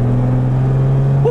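A Series 1 Jaguar E-Type engine pulls in third gear, a loud, steady low drone with a slowly rising pitch, heard from inside the car.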